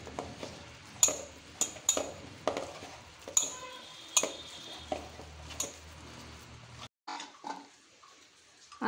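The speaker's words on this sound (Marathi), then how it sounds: "हांव दह्यान कालून घेता।" Spoon stirring a chilli mixture with curd in a bowl, giving repeated clinks and scrapes at an uneven rhythm, close and fairly quiet, with soft rustles between strikes and no talk.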